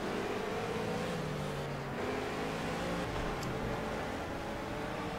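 Race car engines in the video game Project CARS, including an Aston Martin hybrid and a BMW in a pack heading into the first corner, drone steadily and loudly throughout, with engine notes rising and shifting as cars jostle close together.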